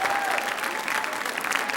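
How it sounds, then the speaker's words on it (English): Audience applause for the parents at a dance recital, a steady, dense clapping from a crowd, moderately loud with some talk mixed in. "So please, one round of applause for all the parents who are sitting here."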